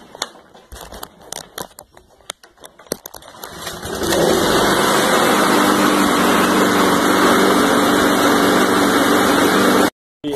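A John Deere JS36 lawn mower with a freshly cleaned carburetor, new air filter and new spark plug: scattered clicks and handling noises, then the small engine catches and runs loud and steady for several seconds before cutting off briefly.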